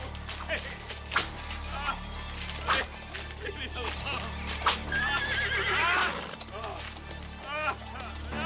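Horse whinnying with a sharp rising neigh midway, amid clip-clopping hooves and raised voices of people arguing in a tense outdoor confrontation scene.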